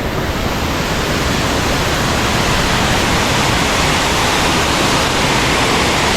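Pha Charoen waterfall in full flow, a loud, dense and unbroken roar of falling water filling the whole stretch with no voices.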